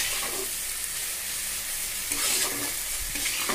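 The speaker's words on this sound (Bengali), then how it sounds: "সামান্য পরিমাণ জল দিয়ে মশলাটাকে কষিয়ে নেব" Ginger-cumin paste masala sautéed with a little water in a pan for a Bengali lentil dish with taro, giving a steady close sizzle and frying hiss with occasional stirring scrapes throughout.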